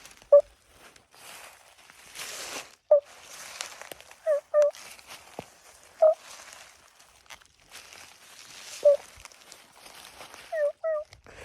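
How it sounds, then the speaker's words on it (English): Wild turkey hens give soft, content covert calls, short quiet clucks and yelps scattered irregularly over faint rustling, close but subdued. "The hens, covert calling is where, like, they're just calling super softly."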